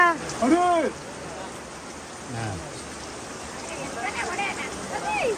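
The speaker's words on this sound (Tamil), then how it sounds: "உங்களுக்கு மழையை காட்டணும்னு" Rain falling during a storm, a constant broadband hiss underneath while people talk intermittently over it.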